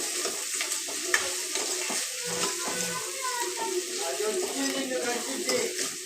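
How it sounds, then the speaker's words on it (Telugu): Tomato chicken curry is stirred in a pan over heat, a continuous soft sizzle with scraping and stirring strokes throughout, a voice faintly in the background. "కలుపుతున్నారు"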